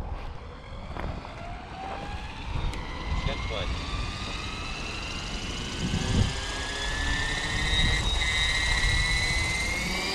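An Oxy5 RC helicopter on a 6S setup with an X-Nova motor flies outdoors, its whining rotor and motor pitch sliding up and down as it maneuvers, with wind noise and occasional voices underneath.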